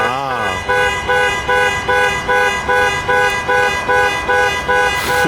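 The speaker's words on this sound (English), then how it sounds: "So that's your panic alarm." A 2021 Range Rover Westminster Edition SUV's panic alarm honks in a steady, loud rhythm of repeated horn blasts, about ten evenly spaced pulses, close by with no talking over it.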